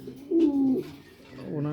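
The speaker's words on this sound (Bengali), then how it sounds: "এটা আসলে একটা সুপার কবুতর।" A pigeon in a breeding loft gives a low, close cooing call that swells and fades, then a second softer coo begins, with faint room noise around it.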